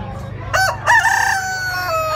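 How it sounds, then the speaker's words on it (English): A rooster crows nearby at a county fair in South Florida, a short call followed by a longer drawn-out crow over a low hum of background noise. "That is a rooster right there."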